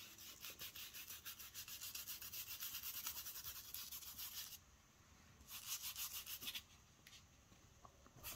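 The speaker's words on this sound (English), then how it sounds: "Scrub vigorously." A sealed prop surface is scrubbed vigorously, giving a close, faint, steady rasping rub in long strokes with a short pause midway.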